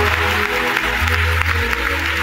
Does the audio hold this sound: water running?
no